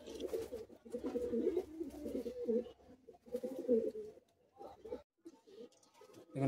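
Domestic tournament pigeons coo softly in repeated rolling phrases with brief pauses, sounding close but quiet.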